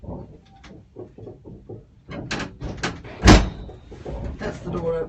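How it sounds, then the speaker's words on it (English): A cable car door slides open at the halfway station of a Manara Cliffs descent, a sharp clunk and slide rising loudly over talk in the cabin. "That's the door opening for the halfway point."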